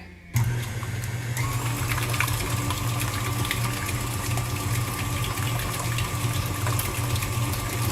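An electric mixer fitted with a splash guard churns bran muffin batter, a steady loud motor whir with a constant hum starting abruptly and running without pause, no talk.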